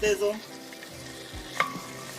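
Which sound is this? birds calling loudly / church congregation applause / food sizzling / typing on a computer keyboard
food sizzling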